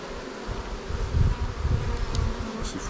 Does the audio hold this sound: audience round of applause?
no